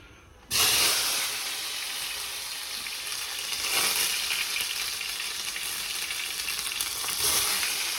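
Cherry tomatoes hit a hot pan with green peppers and garlic, a sudden loud sizzle that settles into steady, close frying and hissing, with brief swells as they are stirred.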